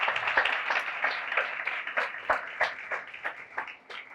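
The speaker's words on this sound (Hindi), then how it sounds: "हमारी पूरी कलीसिया भी आपको तालियां बजाकर वेलकम कहती है" A church congregation claps together in welcome during a Sunday service, a steady patter of many hands with distinct sharper claps standing out, moderately loud and unaccompanied by talk.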